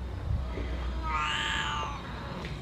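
A single drawn-out cat meow, clear and fairly close, rising then falling over about a second against a low background rumble, with no talking.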